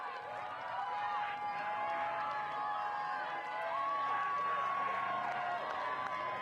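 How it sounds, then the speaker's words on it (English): Rugby crowd at the 2023 WPL Final, Colorado versus Berkeley, a steady loud roar and chatter from the stands with whistle-like tones and scattered cheering, continuous throughout. "loudness of the crowd."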